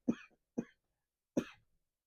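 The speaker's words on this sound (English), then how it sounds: "Excuse me, I'm going to cough." Three close, short coughs from one person, the first two about half a second apart and the last after a longer pause, each a sharp burst that fades quickly in a quiet room.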